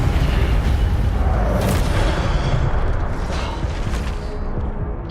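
Fiery spell blasts in Hogwarts Legacy combat, a dense continuous roar of booming, crackling impacts that stays loud and steady without any voice over it.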